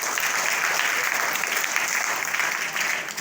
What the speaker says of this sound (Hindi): ताली बजाना चाहूँगा